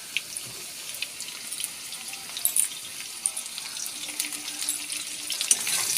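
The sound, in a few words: potatoes and onions frying in a pan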